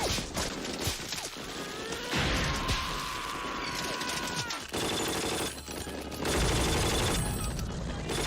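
Gunfire crackles through a chaotic World War II combat scene from Band of Brothers, with dense rapid bursts, sharp cracks and crashes over a roaring battle din, loud and continuous with abrupt cuts between shots.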